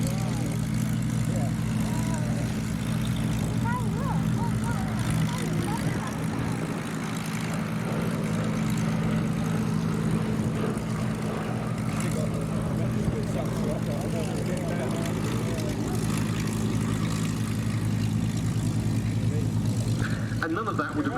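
A Boeing B-17 and an Avro Lancaster, piston-engined propeller aircraft, fly together at a display, giving a continuous, steady droning engine roar that holds at an even level throughout.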